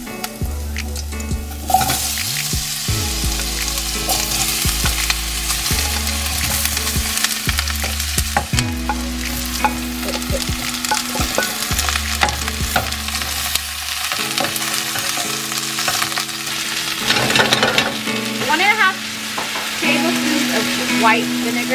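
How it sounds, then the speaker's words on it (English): Garlic and lotus root frying in hot oil as a quick appetizer, with a steady loud sizzle and repeated stirring scrapes throughout, a low cooking hum underneath and brief louder bursts of crackle. "now that you see our oil has been heated up, we can go ahead and add our garlic. And now we can go ahead and add our lotus root"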